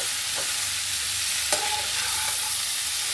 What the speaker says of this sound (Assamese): এতিয়া আমি এইখিনি ধুনীয়াকৈ লৰাই দিম